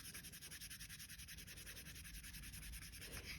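Steady rhythmic rubbing over the surface of a Tando hexagon piece, a faint, close scratchy stroke repeating several times a second without pause.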